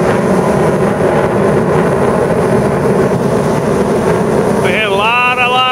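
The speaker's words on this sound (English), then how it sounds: "We had a lot of jet noise today." A jet aircraft passes overhead during an outdoor metal-detecting outing, a loud, steady broadband roar that fills the whole stretch, with a brief voice-like tone rising near the end.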